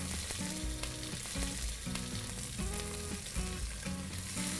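Sliced red onions, curry leaves and cardamom frying in a pan for a Sri Lankan black chicken curry, a steady close sizzle with stirring clatter on top and no voices.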